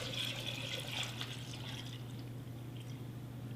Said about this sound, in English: So I'm going to pour a little bit of this back in there.